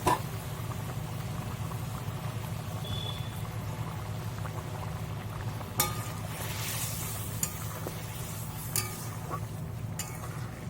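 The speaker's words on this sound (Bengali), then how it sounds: "ঝোলটা ফুটে উঠেছে" Curry sauce bubbles steadily in a pot as egg dumplings wait to go in, a soft continuous simmer with occasional faint clinks and taps near the end.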